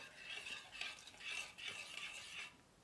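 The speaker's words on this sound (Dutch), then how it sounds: "voordat ik het aan de kook breng, ga ik het gewoon roeren." A spoon scrapes and swirls through oat porridge with coconut milk in a pan before it is brought to the boil, in a few close, steady stirring strokes.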